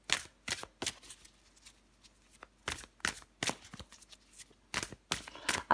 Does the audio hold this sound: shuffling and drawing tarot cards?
yes